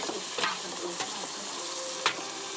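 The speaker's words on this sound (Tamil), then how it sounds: "நல்லா வதக்கலாம்." Tomatoes with salt and turmeric sizzle steadily in a pan for egg curry while being stirred, with occasional scraping clicks from the spoon over a continuous close frying hiss.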